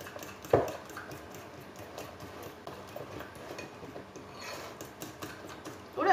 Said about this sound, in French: Et je vais également venir mélanger tout ceci.